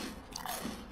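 Bites into crunchy homemade croutons from a Caesar salad served with steak, giving a few close, crisp crunches and chewing sounds, with no talk.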